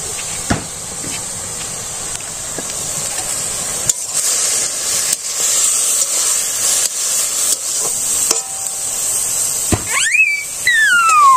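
Puti fish go into a hot pan with a loud, steady hissing sizzle that carries on throughout, broken by a few sharp knocks and a high squeal near the end.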